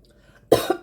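A single sharp cough breaks out after a moment of near silence, close and loud, followed by a second short burst.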